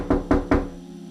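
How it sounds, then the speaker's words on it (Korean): Three firm knocks on a house door, evenly spaced and close, each with a short resonant thud, then quiet. "지금 우리 집 문을 두드리는 사람이"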